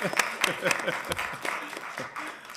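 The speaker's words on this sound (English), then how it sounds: "Yeah, you can clap" A small audience at a county commissioners board meeting claps in scattered, uneven bursts at low volume, with some talk mixed in.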